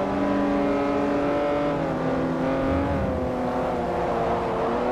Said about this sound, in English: I'm getting out accelerated by a Beetle.